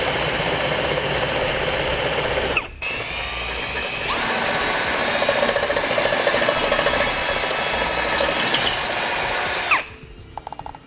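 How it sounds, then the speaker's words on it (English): A power drill bores through an existing hole in a steel bracket on a 2016 Lincoln MKX, running loud and close in two long bursts with a brief pause between, then stopping. "going to be drilling through that existing hole all the way through my bracket, coming out up top"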